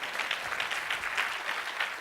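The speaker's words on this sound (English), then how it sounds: "this is where you should clap" An audience claps steadily, a dense wash of hands from many people continuing throughout without pause.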